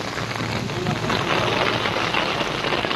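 Heavy unseasonal rain falls over hail-damaged farmland in Vadgaon Dal village, Bhor, as a dense, steady hiss of downpour with no gaps and no voices.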